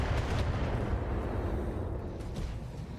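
Missile hits pounding a Black Knight mech in the BATTLETECH video game, a dense, loud barrage of booming explosions rolling continuously without pause.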